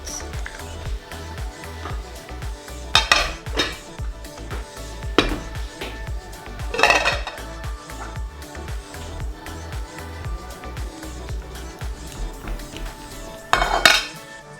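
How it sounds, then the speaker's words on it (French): Mochi dough mixture being stirred in a bowl, with repeated knocks and clinks of a utensil against the bowl in an uneven rhythm, close, plus a few louder scraping bursts. "on mélange bien pour que ce soit bien uniforme"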